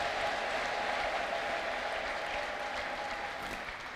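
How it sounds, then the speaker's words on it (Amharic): A church congregation claps in praise during a prophet's healing service, a broad sustained wash of applause at moderate level that slowly fades toward the end; no distinct ululation stands out. "ኢየሱስ ክርስቶስ የተባረከው ለጌታ እልልታና ጨብጨባ እስኪ።"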